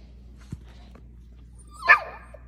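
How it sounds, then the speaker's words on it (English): A small dog gives a single short bark, then a brief growl-like yip in a quiet room, with little else around it. "That little bark and that little growl."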